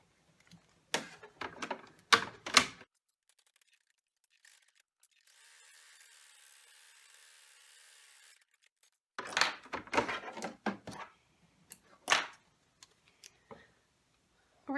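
An embroidery machine stitching the window of an in-the-hoop vinyl coin holder, heard as close bursts of rapid ticking and clattering needle strokes. A quieter steady whir fills the pause between the bursts.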